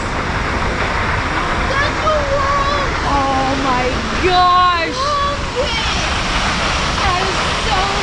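Shoshone Falls roars as a continuous broad wash of falling water, loud and steady, while people talk and exclaim over it and birds chirp now and then.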